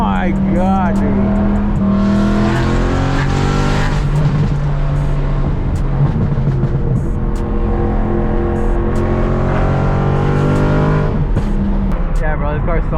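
A BMW E92 M3 engine revs and accelerates loudly, pitch climbing through repeated gear changes, with excited talking and shouting over the roar.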